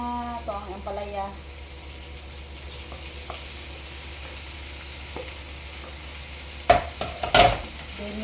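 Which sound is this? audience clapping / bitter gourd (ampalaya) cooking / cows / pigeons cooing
bitter gourd (ampalaya) cooking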